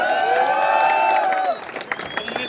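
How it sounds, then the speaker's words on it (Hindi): An audience at a campus talk claps and cheers loudly, then the applause thins out as a lone voice carries on talking over the fading clapping. "तुमने तालियां बजाई है"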